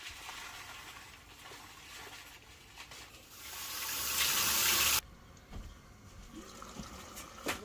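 Water runs and splashes steadily into a container of rice, swelling louder before cutting off abruptly, followed by quieter clinks and handling noises.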